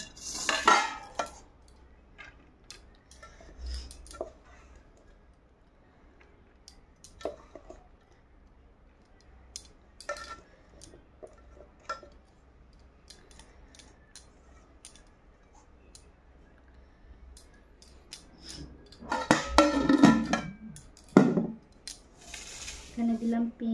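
Rice being served onto a plate with metal utensils for a home-cooked Bengali lunch, with scattered clinks and scrapes of spoon on dishes, a few louder clattering bursts near the end, otherwise quiet.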